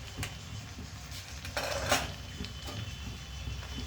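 A spoon scrapes and taps against a pan while mustard paste goes into a fish curry, a few quiet metallic clinks and scrapes with no talking.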